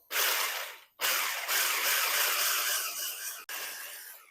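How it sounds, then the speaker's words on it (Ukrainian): An electric mixer whisks cake batter with salt for a craffin until pale and fluffy, a steady loud whirring hiss that cuts out briefly twice and then resumes. "І тепер збиваємо цю всю масу до світлого пишного стану."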